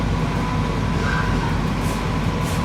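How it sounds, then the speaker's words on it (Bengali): An AC local train runs fast out of Dum Dum near Kolkata, giving a steady, loud rolling rumble and rattle that fills the whole stretch, with no talk. "দমদম থেকে ছাড়ার পর ট্রেন কিন্তু বেশ জোরে যাচ্ছে।"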